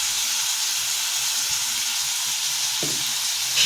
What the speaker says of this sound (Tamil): தக்காளி வணங்கிட்டுருக்கு.